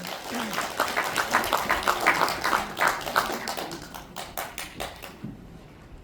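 An audience claps to welcome a presenter at an Incheon volunteer best-practice presentation contest, the applause fairly close and busy at first, then thinning into scattered claps and fading toward the end.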